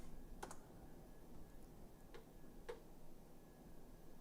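A handful of light, sparse keystrokes on a computer keyboard while typing a search, faint clicks spread over a few seconds against a low background hum.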